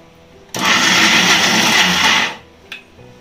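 A kitchen mixer grinder whirs loudly for about two seconds, blending banana flower vada batter, then spins down and stops, followed by a short clatter.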